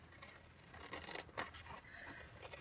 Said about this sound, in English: now you take a pair of scissors and you make a cut here